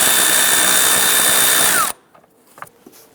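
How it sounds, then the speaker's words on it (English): A power tool fitted with a 5/16 shallow socket spins loudly and steadily to loosen the hose clamp on the air intake tube of a 2011-2021 Jeep Grand Cherokee, then stops abruptly and leaves a few faint clicks and taps. "Loosen the hose clamp, securing the air intake tube to the throttle body. We're using a 5/16 shallow socket"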